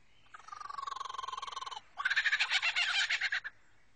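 Two bursts of rapid, rhythmic cackling bird calls, a steady chatter followed by a louder laughing stretch, a lyrebird mimicking a kookaburra's call.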